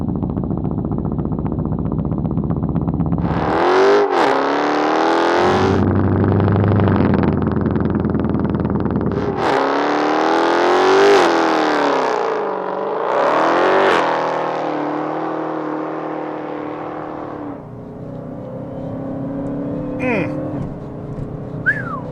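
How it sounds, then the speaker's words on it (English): A Dodge Charger SRT Hellcat revs hard during burnouts, loud engine blasts rising and falling in repeated bursts with tire squeal, while people talk over it. "when we got this car, we acknowledged it's time to do some burnouts"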